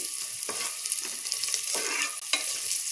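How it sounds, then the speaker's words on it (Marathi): Onion frying in a pan for a soya pulao, a continuous bright sizzle with a few soft stirring scrapes at regular intervals, close and steady with no voices. "हे बघा, आपला कांदा भाजला जातोय।"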